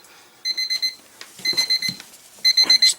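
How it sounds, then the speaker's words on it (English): An alarm clock beeps in three separate bursts of rapid, high-pitched electronic tones, fairly close and loud, with faint handling noises in between. "Just turn off my alarms."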